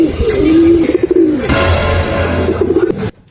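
Racing pigeon arriving home at the loft after a race, giving loud close coos with a flutter of movement before falling quiet.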